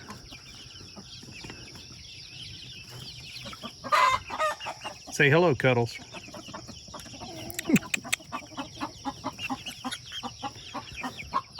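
A hen clucks in short bursts close by, with a few louder squawks, while a person holding it speaks briefly to it.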